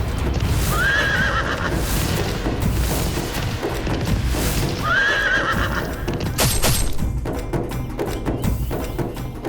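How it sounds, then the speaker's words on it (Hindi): A horse whinnies twice over a steady rumble of galloping hooves, with booming, crashing sound effects swelling near the end, in the style of a mythological Hindi TV drama. "इतना सुंदर अश्व, इसकी त्वरित गति तो दर्शनीय है"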